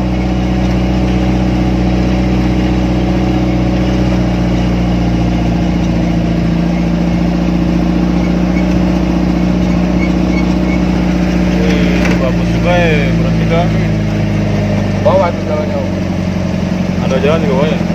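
Car engine idling steadily nearby on a road trip in the Alor Archipelago, a low even hum with a brief rev near the middle, while people talk over it.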